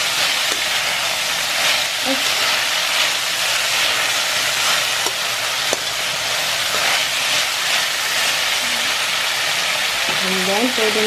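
Vegetables stir-fried in a pan with oyster sauce give a loud, continuous sizzle and hiss with occasional scraping taps of a utensil, and a voice briefly at the end.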